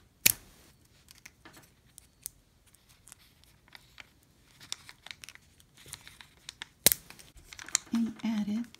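Scissors snip through rolled diaper rings for a circus carousel diaper cake, giving a few sparse, close cuts and crinkles of diaper material spread over a quiet stretch, with louder handling and rustling near the end.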